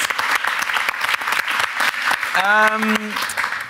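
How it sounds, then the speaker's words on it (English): Steady applause from an awards-final audience, dense clapping throughout, with a brief whistle or cheer rising near the end. "I would suggest we give them a big round of applause"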